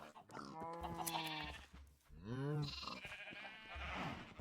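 Sheep bleating in a video game, several loud wavering bleats from more than one animal, close and overlapping, with game background sound.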